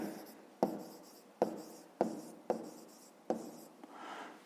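Handwriting on paper during a fifth-grade maths exercise, several distinct pen strokes in a steady rhythm, each a sharp scratch tapering off, close and quiet with no voice over it.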